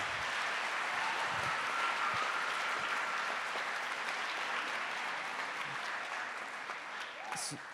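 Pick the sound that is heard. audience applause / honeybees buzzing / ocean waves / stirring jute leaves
audience applause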